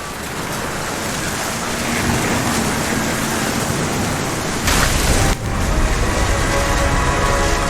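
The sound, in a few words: thunderstorm with rain in the video game What Remains of Edith Finch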